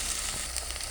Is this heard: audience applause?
no